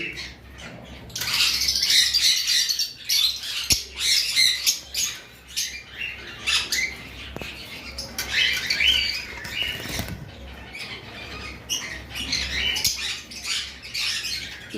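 Several lutino Fischer's lovebirds chirp and squawk together in shrill, busy bursts, with some wing flapping and scrabbling, close and fairly loud, with no talking.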